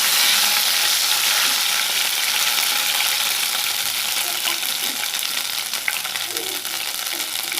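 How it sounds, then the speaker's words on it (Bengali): Cardamom, cinnamon, bay leaf and dried chili frying in hot oil, a loud, steady hissing sizzle close by, with faint stirring taps toward the end and no talk. "এলাচ, দারচিনি, তেজপাতাটা দিয়ে দিব, আর শুকনো মরিচ, এগুলো একটু বেজে নিব।"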